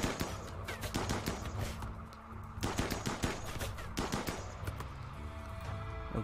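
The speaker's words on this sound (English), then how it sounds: "While we shoot the guy trying to dig through our wall." Rapid bursts of automatic gunfire from a colony firefight in the video game RimWorld, dense overlapping shots in two long volleys with a brief lull between, loud and continuous with no talk.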